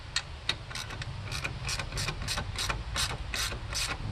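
Ratchet tightening a bolt while replacing the front accelerometer on a 2004 Mercedes E55 AMG in a workshop, a series of about a dozen quick, evenly spaced clicks, close and fairly quiet.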